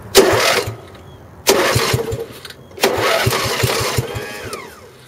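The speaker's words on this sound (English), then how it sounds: "it turns over with just the screwdriver" A car engine cranks over when the starter solenoid terminals are bridged with a screwdriver. There are three loud bursts of rhythmic starter churning, with short pauses between them.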